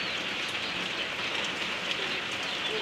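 Steady rain falls at night during an outdoor mor lam show, a dense continuous patter on surfaces with no voices or other sounds standing out.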